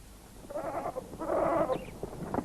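Goats bleating on African rangeland, two or three moderate wavering calls spread across a couple of seconds with a louder sharp sound right at the end.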